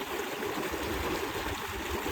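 Water gushes under pressure from a 6-inch pipe fed by a 7.5 HP pump motor in a field after rain, a steady, close, broadband rushing that holds level throughout with no voices.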